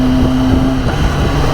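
A 2021 Kawasaki ZX-10 motorcycle engine on a street ride, shifting with a quick shifter: a loud steady drone whose pitch drops sharply partway through as the gear changes, buffeted by wind noise, no talking.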